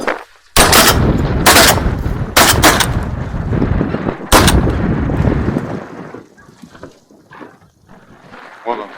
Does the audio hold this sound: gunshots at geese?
yes